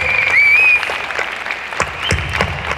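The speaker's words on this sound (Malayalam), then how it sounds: "എല്ലാരും ഒന്ന് കൈയടിച്ച് പ്രോത്സാഹിപ്പിച്ചു കൊടുത്തേ." Applause from an audience at a Ponnonam 2018 Onam celebration, a steady patter of clapping running through the clip, briefly overlapped at the start by a thin whistle-like tone.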